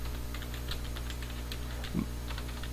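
Keys clatter steadily on a computer keyboard while data is entered into a spreadsheet, a quick, light run of close clicks over a constant low hum, with no talking.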